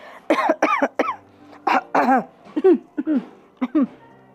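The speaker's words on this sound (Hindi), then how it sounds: "शर्म के मारे वो सब खांसने का नाटक करने लगे" Several people cough and clear their throats in quick, overlapping bursts, a scattered chorus of short forced coughs close by.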